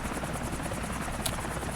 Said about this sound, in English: I'm letting the helicopter fly itself